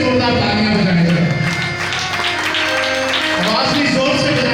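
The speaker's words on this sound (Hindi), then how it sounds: "अपने लिए जोरदार तालियां बजाएं जरा" A church congregation at a midnight Resurrection service claps loudly and steadily, the dense applause blending with music and voices throughout.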